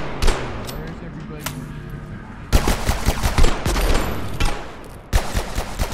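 Gunfire in the video game Abiotic Factor: repeated bursts of rapid shots, some sharp single cracks, coming in clusters with short pauses, fairly close and loud.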